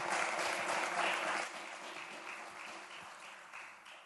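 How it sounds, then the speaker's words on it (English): Conference audience at a security forum breaking into applause, a dense, full wash of clapping that fades slightly after the first second and a half. "A big round of applause to one of the most interesting and challenging intellectuals of our time."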